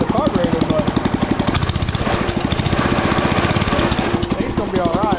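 The engine of a rain-soaked, worn Baja BT200X motorbike runs close by with a loud, rapid chugging beat, roughly steady with slight revving.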